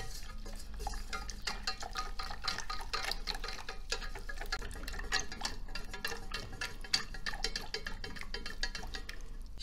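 Continuous wet stirring and scraping of a utensil through a milk and flour mixture in a bowl or pan, with small clinks, steady and close.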